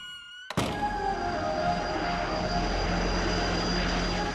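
A Spitfire aircraft, number 885, arrives at an airfield, its propeller engine droning steadily with a constant tonal hum after a sharp thunk-like cut, loud and continuous with no talking.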